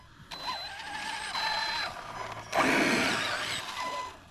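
A Kyosho Scorpion XXL radio-controlled car starts up with whirring, ratcheting mechanical bursts and a rising motor whine in separate pulses, ending in a louder, busier surge, with no voices.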